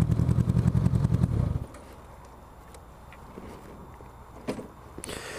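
A Goldwing touring motorcycle rumbles loud and close for about a second and a half, then drops away to a quieter, steady road and wind background.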